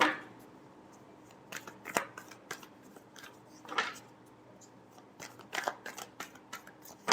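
Tarot cards are shuffled by hand in a quiet room, giving soft irregular riffles and sharp flicking snaps in uneven clusters, close and fairly faint.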